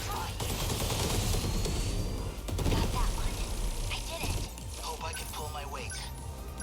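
A multi-rocket launcher barrage in 13 Sentinels: Aegis Rim, dense rapid blasts and crashes piling over one another in a loud continuous volley, with game sound effects layered throughout.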